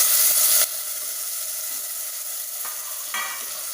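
Tomatoes frying in a hot pan for a spicy Tulu-style red mackerel (bangda) curry, giving a loud, steady sizzle with a brief stir at the start and no talking.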